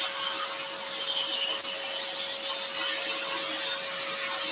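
A scroll saw cuts wood for a compound-cut candle, making a continuous, close, rasping buzz with a steady motor whine throughout.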